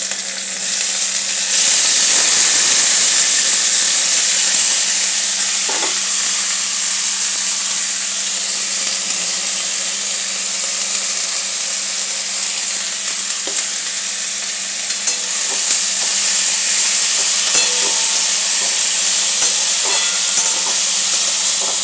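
Chopped vegetables for a Bengali veg chop hiss and sizzle loudly in a hot pan with kalo jeera, a dense, unbroken frying roar close by, with occasional faint utensil knocks and no talking.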